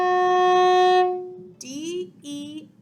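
A viola plays an orchestra part, holding one bright, sustained bowed note for about a second before it stops and a voice follows briefly.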